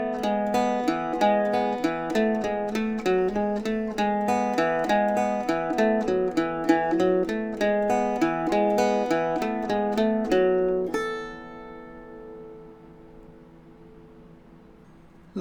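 An Irish bouzouki plays the first three lines of the jig "The Gander in the Pratie Hole" as a steady run of plucked notes, close and solo, before a final chord rings out and fades.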